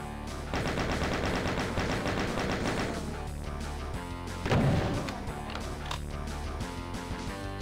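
Rapid automatic gunfire from a chaingunner fight in Doom 2 rattles continuously, loud and dense, then gives way to heavier shots, explosive thuds and game effects with no talking.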